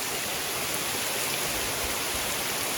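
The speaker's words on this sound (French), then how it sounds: "Bon bah pour changer, hein, grosse pluie." Heavy tropical rain pours down steadily in Guatemala, a dense continuous roar of water with runoff turning into a torrent, loud and unbroken with no voices.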